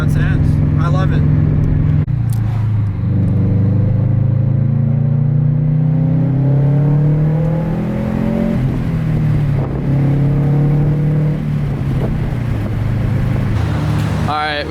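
2004 Subaru STI with a Tomei catback exhaust revs loudly up and down several times, a deep burbling note rising and falling close by, with brief pauses between pulls.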